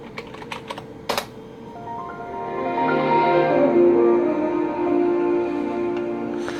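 A few sharp keystrokes on a Compaq Presario 7000 computer keyboard while entering a password, close and crisp, followed by a sustained tonal chime-like sound that rings out after the typing stops.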